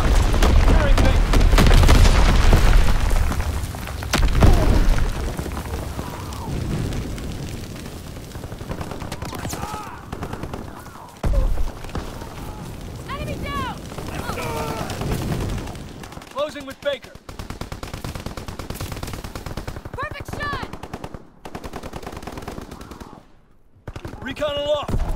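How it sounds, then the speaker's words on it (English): Artillery fire and explosions from Call of Duty WW2 gameplay: a heavy opening barrage of booms and rapid gunfire, then scattered blasts and shots further off, with in-game radio voices calling out over the action. "Firing division artillery"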